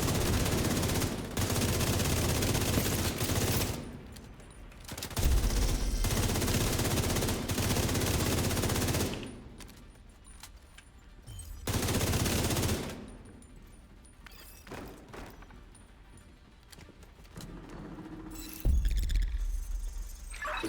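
Bursts of automatic gunfire in a video game, several loud rattling volleys separated by quieter gaps, with no speech over them.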